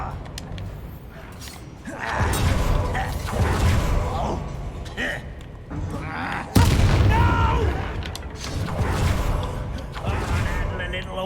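A Confringo fire spell explodes in the Hogwarts Legacy game, with heavy booming blasts and a sharp burst midway amid combat noise, the explosions mixed under character dialogue.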